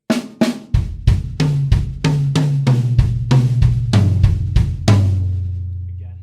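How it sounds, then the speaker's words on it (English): Drum kit played very slowly, one stroke on each of about four drums in turn, each hit ringing out with descending pitches across toms; a dozen evenly spaced strikes, close and loud, with no talking. "I'm going to play 1 beat per drum around 4 drums."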